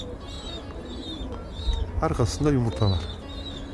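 Pigeon at its nest with eggs, cooing softly in repeated short calls behind someone talking close by.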